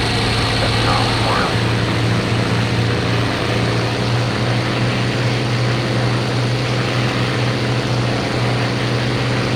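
A WWII fighter aircraft's engine at full power in a video game: a loud, continuous propeller drone that holds steady and dense throughout.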